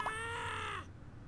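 A single drawn-out cartoonish caw from a bird in the puzzle game Scribblenauts Unlimited, set in a capital city, with a steady low hum beneath it.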